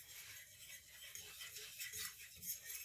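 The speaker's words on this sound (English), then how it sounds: "You want to continue whisking it because you don't want it to burn." Steady scraping and rasping of a fork whisking an Alfredo sauce roux in a pan, a quick repetitive rhythm heard close and alone.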